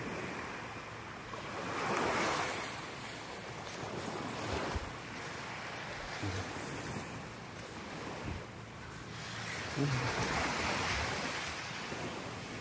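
Waves wash in and out on a white sand beach at Lingig, Surigao del Sur, a broad rolling surf rising and falling in slow swells under steady wind buffeting the microphone, with no talking.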